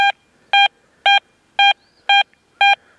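A Deus 2 metal detector swept over a buried target gives six identical sharp electronic tones at an even half-second rhythm, loud and clean against near silence.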